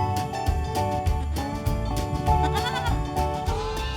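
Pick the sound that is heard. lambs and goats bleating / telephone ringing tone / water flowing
lambs and goats bleating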